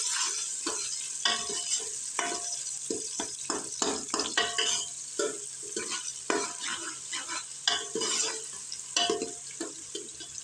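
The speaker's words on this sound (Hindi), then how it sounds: "प्याज जो है वो यहाँ पे अच्छी तरह से फ्राई हो रहा है" Onions frying in hot ghee hiss steadily in a pan while a spoon stirs and scrapes repeatedly, the clinks and scrapes coming in an irregular rhythm close to the listener, with no talking.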